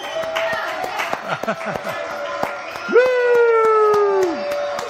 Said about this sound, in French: je vous demande d'applaudir extrêmement fort pour ces deux spectacles